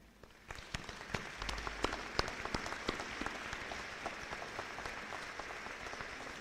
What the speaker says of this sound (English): So all faculty and staff, can you please stand and let's give you due applause.